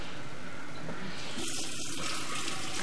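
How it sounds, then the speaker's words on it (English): A bathroom sink faucet runs steadily, a continuous rushing hiss of water into the basin, close and even throughout with no talking. "Let's run that sink."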